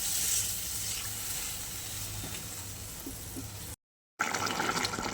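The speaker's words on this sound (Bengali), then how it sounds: "এবার অল্প জল দিয়ে দিই।" Water splashes into a pot of simmering tilapia and eggplant curry, a steady rushing pour with a bubbling sizzle beneath, close and fairly loud, cut off briefly by a gap before noisy sound resumes.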